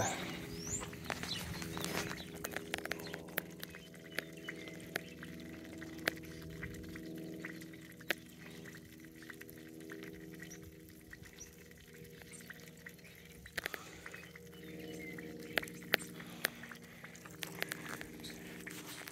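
Water drains out of pump house lines during a hydrant replacement on a farm, a continuous pouring wash with scattered drips and small knocks, fairly faint and steady throughout.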